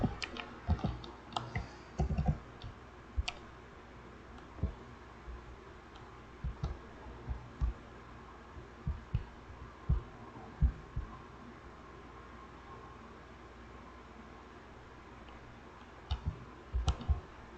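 Numbers are typed on a computer keyboard as scattered key clicks in irregular bursts, some single taps and some quick clusters, over a low steady hum.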